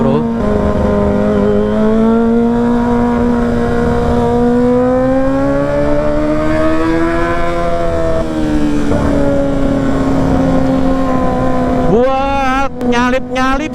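Kawasaki ZX-25RR motorcycle weaving through congested traffic, its engine holding a steady high-pitched whine that swells and eases with the throttle, up close and continuous with wind rush, a voice talking over it.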